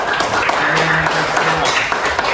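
A class of students claps for groups 2 and 3 in a classroom session, giving a short burst of scattered hand claps while voices carry on underneath.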